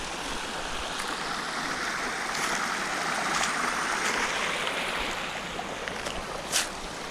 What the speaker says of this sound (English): I gotta put my feet in this water.